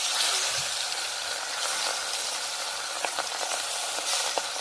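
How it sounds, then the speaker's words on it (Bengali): Small puti fish, rubbed with salt and turmeric, fry in hot oil with a dense, continuous crackling sizzle, close and steady, with a few faint clicks of handling over the constant hiss and no voices. "মাছ ভালো করে নুন হলুদ মাখিয়ে নিয়েছি এবার আমি এক এক করে ভেজে নেব"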